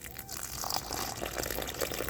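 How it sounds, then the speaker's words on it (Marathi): Water is poured into a bowl of homemade dog food, giving a steady, close splashing trickle that runs unbroken for about two seconds. "याच्यामध्ये आता थोडंसं पाणी ॲड करून घेतो मी"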